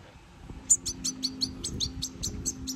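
A small bird chirps close by outdoors near a lake, giving a quick run of about a dozen sharp, high tweets in a steady rhythm over faint background noise.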